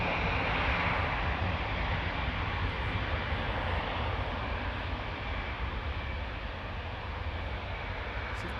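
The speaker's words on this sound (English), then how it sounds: "Cathay Pacific A350-1000 to Hong Kong has come alive" A Cathay Pacific Airbus A350-1000 jet at Amsterdam Schiphol Airport roars with a steady, broad engine rumble that stays loud and close throughout, easing slightly toward the end, with no talking.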